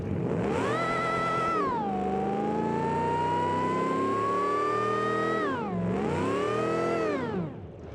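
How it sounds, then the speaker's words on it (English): A supercharged car engine in the BeamNG.drive video game revs steadily, its loud whining tone sweeping up, sliding down and climbing again, holding a sustained pitch between the swells before dropping off at the end, with no talking. "we can hear the supercharger again"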